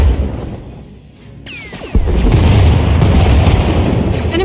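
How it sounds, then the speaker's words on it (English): Turbo lasers and missiles fire from a Thranta-class warship in a space battle in Star Wars: The Old Republic: after a lull, a sharp descending zap is followed by a loud, sustained rumbling barrage. "Enemy is firing. Turbo lasers, missiles, and what looks like transport pods."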